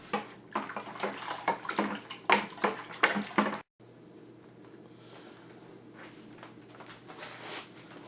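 All-grain saison beer mash stirred in a pot, with rhythmic sloshing and scraping strokes close by, then a quieter stretch of softer liquid movement.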